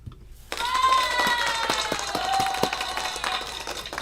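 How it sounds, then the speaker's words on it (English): A burst of hand claps and applause for a contest winner, starting abruptly and carrying on as a steady, close rattle of claps for several seconds with a faint tone ringing beneath. "Y'all give him the hand claps one time."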